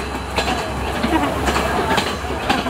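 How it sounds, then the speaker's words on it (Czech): A train pulls away along railway tracks in Sri Lanka, a steady rumbling roll with faint rhythmic clatter carrying on throughout the short stretch. "Akorát odjel vlak"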